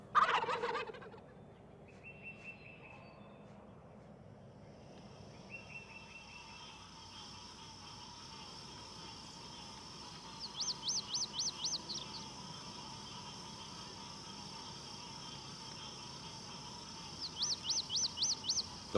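Eastern wild turkey toms gobble in rapid, rattling bursts at a moderate distance, with two clear repeated calls a few seconds apart. Softer bird calls and chirps sound against a quiet outdoor background.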